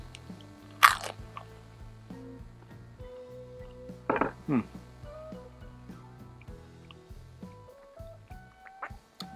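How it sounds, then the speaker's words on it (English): Crunchy toasted cheese and avocado crostini made on a Blackstone griddle, bitten into with a sharp crunch followed by a few more crisp bites and chewing, up close, with no talking. "I don't know if you heard the crunch."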